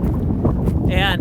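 Chilly wind gusts across the open Nevada desert near the town of Rachel, a brief steady rush of broadband noise buffeting the microphone.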